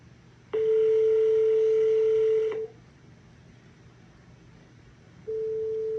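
A phone line tone: one long steady electronic beep of about two seconds, a pause, then the tone starting again, with no voices.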